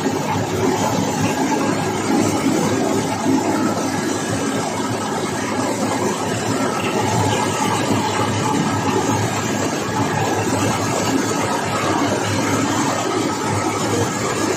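Rice mill engine runs and grinds palay, a dense, steady mechanical roar with continuous rattling and grinding noise, loud and close throughout with no pauses.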